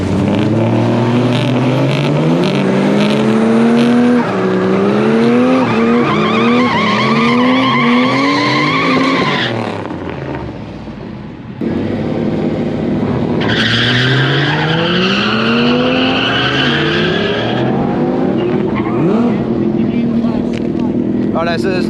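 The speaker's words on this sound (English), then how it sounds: "we are getting a lot of wheel spin out of these guys" Drag cars doing burnouts with heavy tyre wheel spin on a track with little rubber down. Loud, close engine roar and tyre squeal rise and fall in two long bursts separated by a brief lull, with a voice commentating over them.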